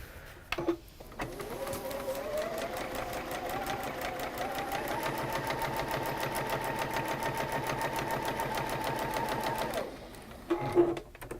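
A sewing machine stitches along a marked line in a long, steady run with a rapid rhythmic needle clatter that rises slightly in pitch, starting and stopping with brief handling noises at each end.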